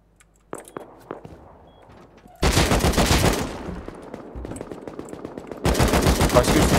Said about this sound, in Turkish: Başka bir şey sıkıyor lan size